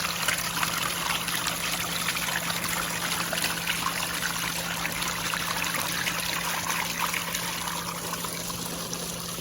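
Steady trickling and splashing water runs continuously through a gold-prospecting sluice box with no pauses, a dense even wash of sound close by and fairly loud.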